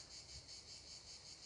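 A cicada or cricket shrills on a summer mountainside, a steady, unbroken high buzz with a faint pulsing rhythm and no other sounds.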